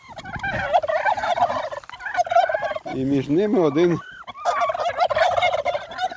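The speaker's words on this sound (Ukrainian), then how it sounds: "Тут мої індюки пасуться." Turkeys gobble loudly in repeated bursts, a rapid warbling chatter rising and falling, with a brief voice heard among them.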